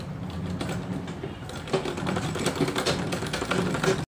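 A sewing machine runs steadily stitching a hook chain onto fabric, a continuous mechanical whirr and rapid clatter with slight shifts in pace, heard close and alone.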